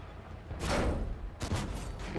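T-34 tank cannon in a video game fires at a target with two heavy, loud booms about a second apart, each trailing off in a rumbling decay.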